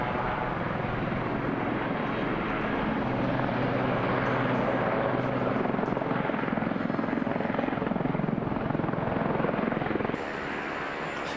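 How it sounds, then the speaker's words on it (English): Four Jetstream T Mark II twin turboprop transport aircraft fly past in formation at an air show at RAF Fairford, a steady loud broadband engine roar that holds throughout before easing slightly near the end. "It's 4 Jetstreams, the Jetstream T Mark II, a twin turboprop transport aircraft"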